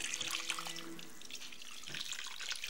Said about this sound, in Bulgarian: Вряла вода слагате.